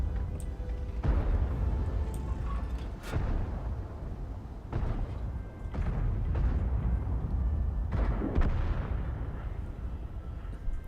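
Tank cannon shots from an AMX M4 51 in World of Tanks, fired as several heavy booming blasts at irregular intervals over a steady low battlefield rumble.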